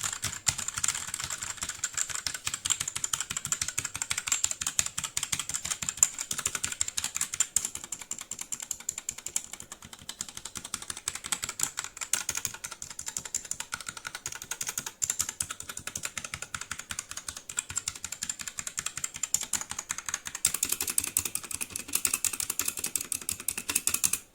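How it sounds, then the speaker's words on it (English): Rapid typing on a Royal Kludge RK61 60% mechanical keyboard, not yet lubed, with dense, steady clacking keystrokes close up and no talk. "Right, this is a before the grease application, how it sounds like the keyboard."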